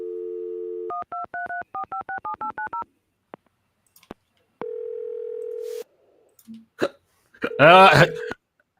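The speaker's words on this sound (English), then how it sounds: "I answered the phone before it stopped ringing." A landline phone call: a dial tone, a rapid run of keypad tones, then the ringback tone, followed by a voice picking up on the line.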